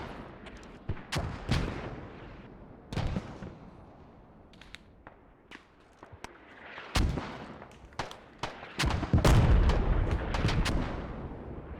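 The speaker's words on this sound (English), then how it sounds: "heavy mortar barrage is coming in on that point" Heavy mortar barrage in the video game Squad: repeated loud booming impacts, some near and some farther off, landing at irregular intervals over a low rumbling battlefield background, with no talking.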